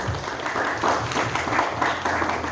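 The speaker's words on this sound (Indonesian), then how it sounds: "Diberikan tepuk tangan" Audience applause at a youth faith dialogue event, a steady mid-loud wash of many hands clapping for about two and a half seconds with no voices over it.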